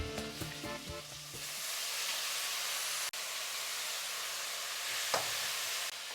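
Onion, brinjal and potato fry in a pan for a traditional huli sambar, giving a steady, loud hiss and sizzle. A few stirring scrapes are heard at the start, with no talking.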